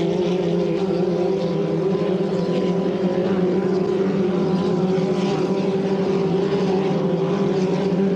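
A 2.5 litre racing hydroplane roars down the straight during a heat in front of the municipal quay, its engine a loud, continuous, steady drone throughout.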